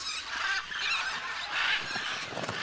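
Colorful Amazon parrots call in the wild, with repeated harsh, honking squawks from several birds overlapping at close range and no voices.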